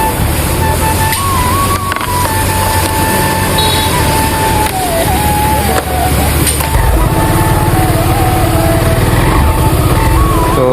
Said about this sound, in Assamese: তো বাইকখনে অলপ মিছ মাৰি দিছে